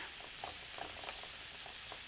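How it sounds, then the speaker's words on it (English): Pieces of food sear and sizzle in a hot pan after being flipped, giving a soft, steady crackling hiss with faint pops scattered throughout. "You can hear that sizzle."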